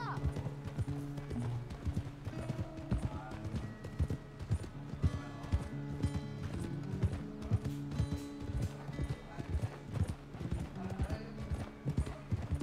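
Horse hooves in Red Dead Redemption 2, a steady, rhythmic clip-clop of a ridden horse moving at pace over a tonal game soundscape, continuing throughout without a break.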